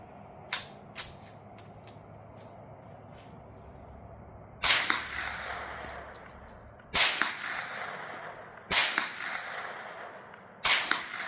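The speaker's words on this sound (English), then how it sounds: "Mini mag suppressed" Suppressed .22 rimfire shots from CCI Mini-Mag ammunition through a B&T Tiger 22 can ring out as four sharp, fairly loud cracks spaced about two seconds apart, each with a short tail, following a couple of fainter clicks.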